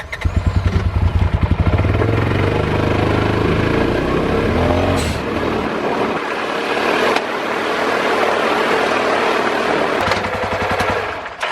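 Polaris RZR Pro XP engine held at full throttle while stuck in limp mode, a loud close rapid popping stutter at first that settles into a rough, strained steady roar with brief surges and dips.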